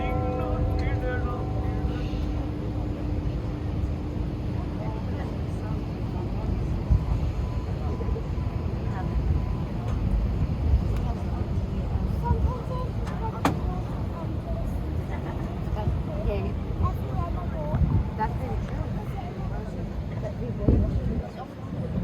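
A tour boat engine drones steadily throughout, a low continuous rumble with water noise, while a person talks intermittently over it.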